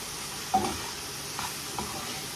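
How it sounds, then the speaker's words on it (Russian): Three chopped tomatoes going into a hot frying pan for a Zatirukha soup base, giving a soft sizzle with a few brief stirring clatters, quiet and steady with no talking. "Отправляю тоже под жарочку."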